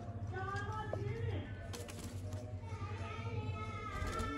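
Sialkoti pigeons, champion high-flying birds, coo and flutter softly in a loft, with children's voices and chatter mingling in the background throughout.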